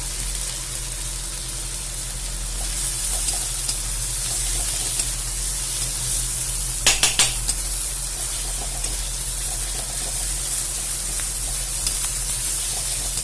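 Cauliflower sizzling steadily in a pan of oil with turmeric and chili powder as it is stirred, an even frying hiss broken by a few sharper scraping bursts midway.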